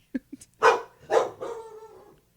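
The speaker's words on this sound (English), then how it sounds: "Dog." A dog barks about three times in quick succession, close and fairly loud, with a short yip before the louder barks and a softer, drawn-out trailing bark at the end.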